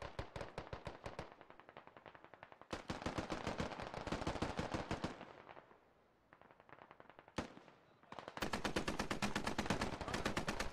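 Heavy gunfire in the military shooter game Squad, rapid automatic bursts and fusillades rattling in long strings, briefly thinning to a lull before another loud volley; no talking.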